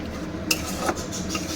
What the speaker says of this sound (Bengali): এটা আবার একটু নেড়ে চেড়ে কষিয়ে নেব